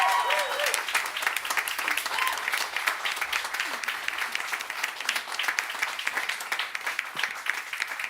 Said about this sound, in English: So can we have a round of applause for Helen?